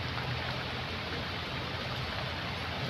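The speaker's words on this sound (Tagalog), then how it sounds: "inabot na ng ulan ng buhos namin" A dense, steady hiss of heavy typhoon rain pours down continuously, with no talking over it.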